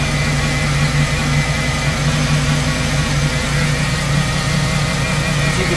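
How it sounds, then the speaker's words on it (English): A 1978 El Camino with an LS engine swap idles steadily nearby, a constant low hum with a faint thin power steering pump whine running over it, with no voices. "I hear that power steering pump whining a little bit."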